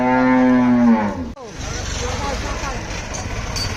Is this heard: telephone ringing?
no